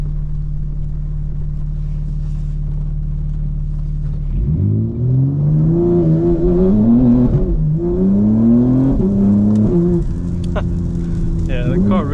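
A 2024 G82 BMW M4 Competition xDrive idles steadily in all-wheel drive mode in the rain, then launches hard, its engine note climbing loudly and rising again through several gear changes, with a voice speaking over it.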